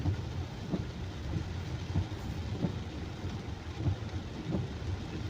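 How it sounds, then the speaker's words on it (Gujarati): Heavy rain pours at the Alipura crossroads in Bodeli village, a dense steady wash of noise with a low rumbling undertone and soft periodic thuds, no voices. "આલીપુરા ચોકડીનો વરસાદ જોઈ લો."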